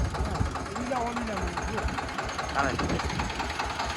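A Zubr tractor engine runs steadily nearby, a continuous low rumbling drone with a knocking texture, while someone talks over it.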